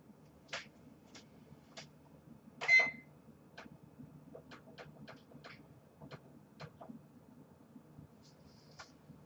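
An oven being set to preheat to 375 degrees, giving a string of short electronic beeps spaced irregularly over a quiet kitchen background, mostly alone with one louder burst.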